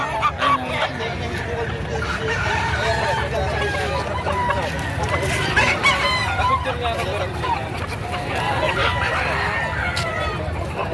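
Gilmore Hatch roosters crow repeatedly among other fowl at a bird market, with drawn-out calls overlapping across a busy, steady background, while people talk throughout.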